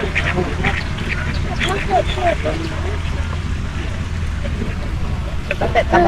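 Muscovy ducks quack in scattered bursts over a steady low engine-like hum, with people talking nearby throughout.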